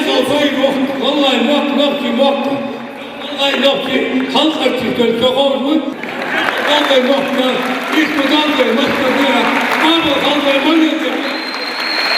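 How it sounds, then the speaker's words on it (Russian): Audience applause at a kindergarten pupils' music concert, sustained steady clapping from a crowd over about twelve seconds, with music and voices mixed underneath. "И ваши аплодисменты воспитанники."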